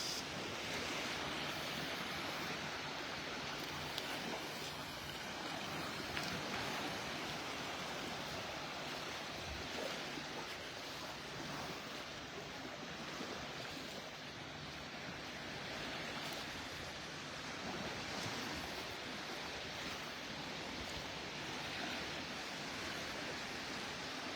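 Ocean surf washing steadily onto the beach at Delnor-Wiggins in North Naples, Florida, a continuous soft roar of breaking waves with light wind across the microphone and no voices.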